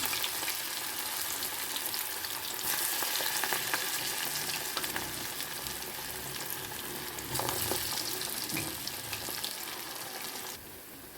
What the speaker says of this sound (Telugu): సో ఇలా మనం ఒక సైడ్ కాగాక ఇంకొక సైడ్ తిప్పేసుకోవాలి అన్నీ గోల్డెన్ బ్రౌన్ కలర్ వచ్చేంత వరకు ఇలానే కాల్చుకోవాలి